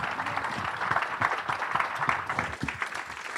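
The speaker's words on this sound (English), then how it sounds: "give these guys a round of applause" Conference audience at the Stories to Watch 2019 event gives a fairly quiet, continuous round of applause, many hands clapping together for a few seconds.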